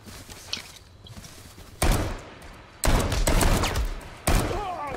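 Gunshots in the H1Z1 battle-royale game, several sharp loud reports in separate bursts, close, with quieter shuffling and movement sounds between them.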